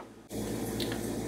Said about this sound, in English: I dilute my rennet in about a quarter cup of non-chlorinated water, so it's time to add that.